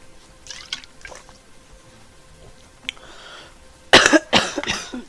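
A woman takes a quick drink of water partway through a Final Fantasy IX play session: faint small sounds at first, then a closer burst of sipping and swallowing noises near the end, with no talking.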